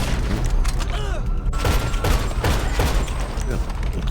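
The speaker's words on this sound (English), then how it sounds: "Let's say you switch to the marksman, hit me again. Fastest fire rate of a sniper." Rapid sniper rifle shots from the marksman rifle in a GTA player-versus-player match, a series of sharp cracks in quick succession over continuous game noise, with someone talking throughout.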